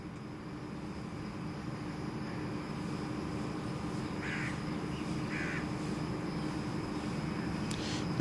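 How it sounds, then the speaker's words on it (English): Birds swooping for insects over an outdoor Commonwealth Games sports venue give a few short, faint calls over a steady background hum. "The birds are swooping, getting all the insects from last night."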